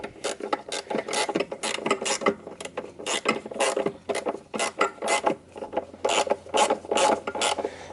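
A socket wrench ratchets a bolt on a Jeep Cherokee XJ during a suspension job, giving rapid, close clicking in uneven bursts with short pauses, steady for the whole stretch with no talk.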